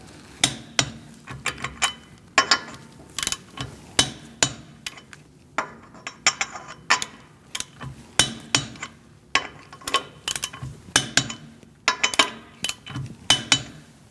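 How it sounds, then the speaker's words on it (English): Lug nuts on a 2016-2019 Chevrolet Cruze wheel being torqued with a torque wrench and 19mm socket to 100 foot-pounds in a star pattern, giving sharp metallic clicks and ratchet taps in irregular clusters, close and fairly loud with no talking. "Using a 19mm socket, we're going to torque our wheels to 100 foot-pounds"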